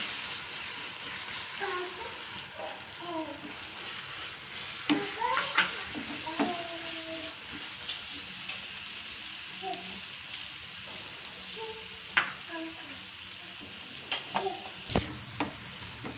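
Egg masala seasoned with pepper and cumin powder fries in a pan, a steady sizzle running throughout while a spoon scrapes and stirs in irregular bursts, the clatter peaking intermittently over the constant hiss.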